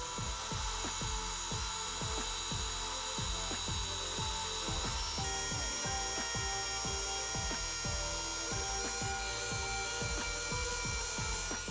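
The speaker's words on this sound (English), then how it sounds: "again using my Dremel and the felt polishing wheels to help me complete this job" A Dremel rotary tool fitted with a felt polishing wheel buffs metal cabinet hinges with green polishing compound, giving a steady high whine over a fast rhythmic rubbing chatter, loud and continuous throughout with no voices.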